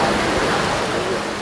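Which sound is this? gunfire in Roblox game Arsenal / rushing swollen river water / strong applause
rushing swollen river water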